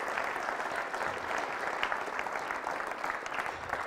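An audience applauds for Bernadette with steady, dense clapping that holds at an even level throughout, with no voices standing out.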